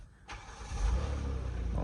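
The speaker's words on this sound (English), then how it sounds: "it's taking a little bit longer to crank up the car" A 2016 Kia Sorento 3.3 V6 with a crankshaft sensor fault cranks for a moment and then catches, settling into a steady, close idle rumble.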